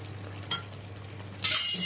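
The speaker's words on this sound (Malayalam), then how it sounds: "ഇനി നമ്മൾ അതിലേക്ക് ചെയ്യാൻ പോകുന്നത് കുരുമുളക് പൊടി. 1 ടീസ്പൂൺ കുരുമുളക് പൊടി." Black pepper powder is stirred into sizzling beef mappas in a pan: a steady low hiss of frying, a brief scrape at the start, then a louder bright sizzle swelling up as the spoon moves through.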